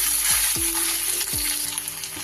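Grated coconut frying in a pan for vegetarian Bengali chholar dal makes a steady broadband sizzle throughout, with a few soft spatula scrapes and stirs, close and alone without talk.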